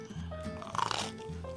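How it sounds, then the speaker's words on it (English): Crunching bites of a Little Caesars pizza with a rock-hard cheddar crisp crust and Italian sausage, a close, loud burst of crisp crackles in the middle of a short stretch of chewing. "I actually really like the crunch, the crisp of the cheddar crisp."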